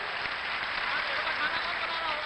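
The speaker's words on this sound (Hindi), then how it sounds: "एक बार जोरदार तालियों से लाफ्टर स्टार का स्वागत होना चाहिए" An audience at a Hindi poetry gathering (kavi sammelan) at the 2016 Simhastha Kumbh in Ujjain claps to welcome a comedian, a dense, even wash of applause that holds steady throughout.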